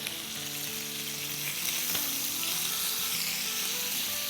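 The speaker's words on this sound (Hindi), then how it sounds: "मशरूम को अराउंड 1 मिनट सौटे करेंगे और यहाँ पीसेस को पलट देते हैं।" Mushrooms and chicken pieces sizzle loudly and steadily as they sauté in a pan, a dense, close frying hiss with a brief clatter midway as pieces are turned.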